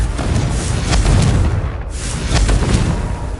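A fiery Confringo spell blast in Hogwarts Legacy, a broad rumbling boom with crackling debris that rolls on for a few seconds, loud and close, with a brief dip before a second surge.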